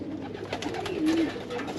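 Racing pigeons leave a home loft, with soft pigeon coos and light bird sounds over a quiet, slightly noisy outdoor background.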